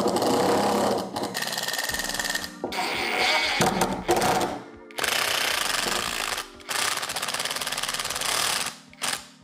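A power drill drives screws straight into a wooden board, its motor whining loudly in repeated bursts with short pauses between runs.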